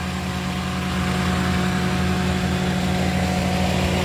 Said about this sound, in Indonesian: Mesin kering, itu nyala ya mesin ya.